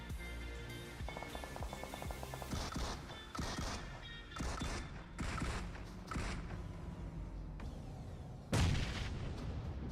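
Grenade blasts and gunfire in a PUBG Mobile esports finals match ring out as a run of heavy booms and sharp bursts, closely spaced, with a loud deep explosion near the end.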